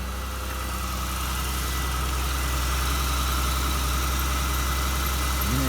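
Olds Cutlass or Buick Electra engine idling steadily after a freezing winter cold start, a loud continuous low rumble held without talk.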